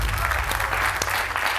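A live audience claps steadily and loudly for the whole stretch, a dense, even wash of many hands with no voices standing out.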